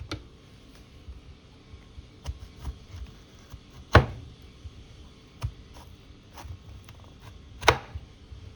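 A knife slices open a pomegranate in a quiet kitchen: scattered soft cutting ticks and taps, with two sharper, louder cuts standing out, and no talking.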